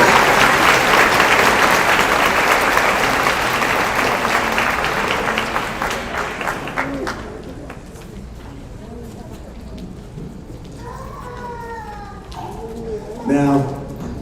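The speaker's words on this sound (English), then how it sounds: "Let's give a round of applause for Solomon Partners for supporting our students over the years." A large audience at an MBA graduation ceremony applauds steadily and loudly, then the clapping tapers off into quieter room noise with a few faint chirping sounds near the end.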